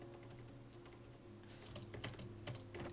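Someone taps a computer keyboard spacebar over and over while playing a game, producing a rapid run of crisp clicks that start sparse and grow denser in the second half, over a steady background hum.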